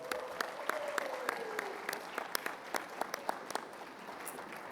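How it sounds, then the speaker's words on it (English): Scattered, fairly sparse clapping from an audience at an awards gala, with sharp individual claps popping out over a soft background murmur. "Give yourself a round of applause."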